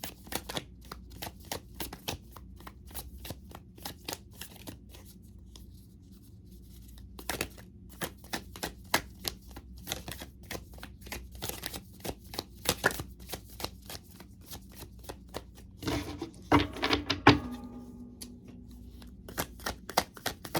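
Tarot cards shuffled by hand in repeated quick riffles and slaps, a steady run of crisp close card sounds with brief pauses, quiet and alone without talk.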